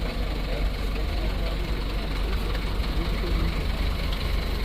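An Audi R8 engine idles steadily at an ice race in Zell am See, a continuous low mechanical rumble heard at moderate distance with crowd ambience and background talk.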